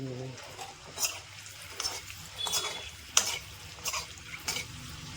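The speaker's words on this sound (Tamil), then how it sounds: "வேறு அந்த முட்டையில் நல்லா வதக்கிக்கணும்" Egg frying in oil in a pan as it is sautéed: faint sizzle with occasional spatula scrapes and taps, a few sharper clinks, close and quiet, with a voice speaking intermittently.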